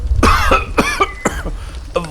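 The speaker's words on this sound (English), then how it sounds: "one of the men started coughing badly" A man coughs badly in a short harsh fit of about four loud bursts, with a wet throaty edge, close by and with no talk over it.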